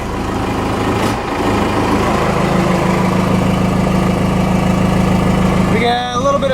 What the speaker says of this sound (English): This engine will shake your truck.